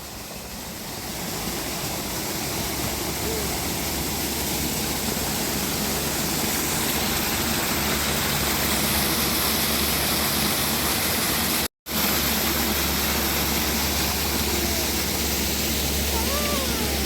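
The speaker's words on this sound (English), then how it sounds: "Wow, is that a waterfall?" A waterfall at Trago Mills gives a steady, loud rush of falling water that stays constant throughout, with a brief cut near the end and faint voices in the background.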